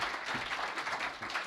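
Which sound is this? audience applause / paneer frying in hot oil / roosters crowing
audience applause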